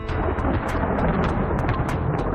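Deep, continuous rumbling thunder from a mountain storm near Mount Antero rolls loudly, with crackling bursts scattered through the roar.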